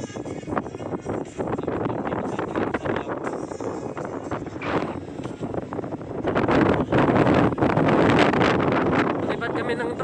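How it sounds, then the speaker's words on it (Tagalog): Strong wind on a hilltop at sunset buffets the microphone with heavy, gusting rumble that swells louder toward the end, with people talking underneath. "Lipat kami ng drone kaso medyo malakas yung hangin."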